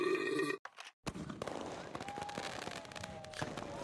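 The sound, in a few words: fireworks going off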